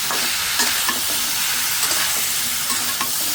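Vegetables with salt and turmeric fry loudly in a pan, a dense continuous sizzle with soft periodic stirring scrapes close by.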